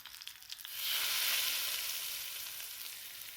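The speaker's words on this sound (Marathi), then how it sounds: "आता हा तडका आपल्याला चटणीमध्ये घालायचा आहे" A tadka with curry leaves hits a red chili thecha chutney, breaking into a bright, loud hiss that swells suddenly and then settles into a steady sizzle.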